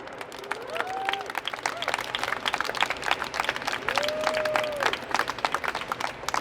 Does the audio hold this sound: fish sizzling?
no